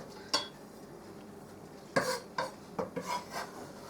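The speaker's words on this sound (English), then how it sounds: "I'm going to chop this up." Food being chopped for a sausage, egg and potato breakfast bowl, heard as a few sharp, close knife taps on a board, one alone and then a quick irregular cluster, over quiet background.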